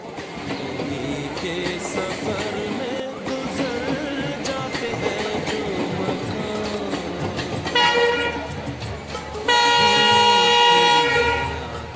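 A passenger train pulls into a station in India, carriages rumbling and clattering steadily nearby, with a loud horn blast sounding toward the end over the continuous rolling noise.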